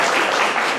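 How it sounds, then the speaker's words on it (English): Audience applause after a call to give themselves a round of applause, a dense steady wash of many hands clapping, fairly loud and close, filling the whole short moment without a break. "please give yourself a round of applause"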